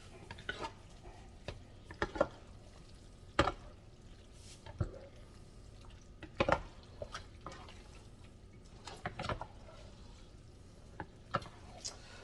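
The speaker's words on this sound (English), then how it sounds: "let's go ahead and mix it all up" A spoon stirs American chop suey, a saucy pasta dish, in a pot, producing scattered wet clinks, scrapes and soft squelches in irregular bursts over a quiet background, without talking.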